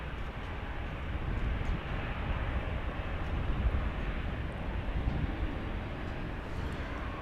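American Airlines flight 790, an airliner, taking off from runway 18 Left at Dallas/Fort Worth airport, a steady distant jet roar and rumble holding evenly throughout with no talk.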